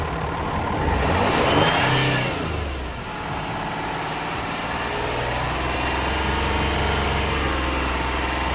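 A car engine revs up to about 2,500 RPM during a battery test, climbing in a loud surge, dropping back briefly, then holding a steady elevated drone close by, with no talking.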